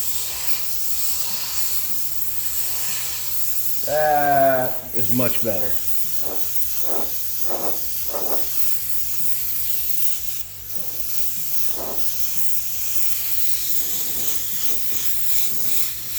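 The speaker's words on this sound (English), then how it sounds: "I want to make sure that I spray that off over here on my little spray sheet." Short bursts of paint reducer from a spray gun hiss onto a spray sheet, several quick sprays in a row, fairly close, with a voice speaking briefly between them.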